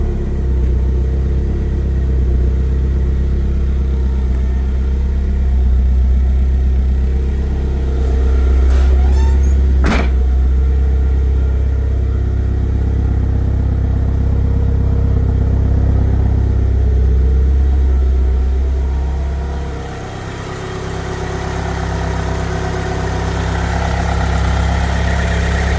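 A restored Mitsubishi Eclipse 2G GSX engine idles steadily with a deep, close rumble, holding an even low drone throughout with a brief dip near the end.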